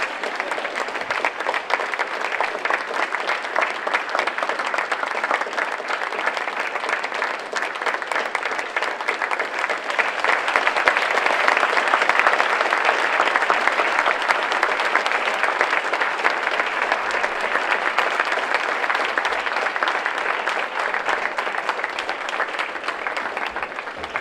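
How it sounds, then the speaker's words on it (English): Long, unbroken audience applause greets Dr. Sebi's entrance, many hands clapping in a steady dense roar that swells slightly midway and holds for over twenty seconds without talk. "Normally you keep the clapping going until he enters the room"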